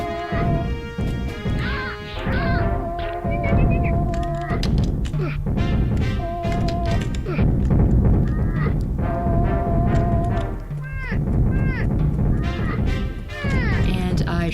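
Bird honks and squawks in the Return to Dark Castle video game, repeated calls mixed with crashes, thumps and game effects throughout, loud and dense with no pauses.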